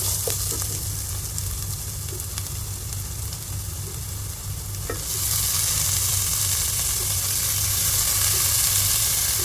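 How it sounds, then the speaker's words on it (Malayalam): Chopped tomato goes into sautéed onions for a chicken curry and fries with a steady, loud sizzle and hiss, with stirring strokes and a brighter, fuller frying hiss partway through; no one speaks. "ഇനി നമ്മളിതിലേക്ക് തക്കാളി ചേർത്ത് കൊടുക്കാം"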